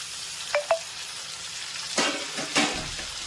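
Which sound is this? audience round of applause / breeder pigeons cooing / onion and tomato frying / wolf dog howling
onion and tomato frying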